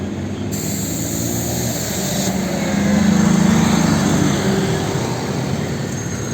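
A steady rumbling roar of a metro train moving through Alibeyköy Çırçır station on the Mahmutbey–Mecidiyeköy line, rising slightly in the middle, with a high whine above it.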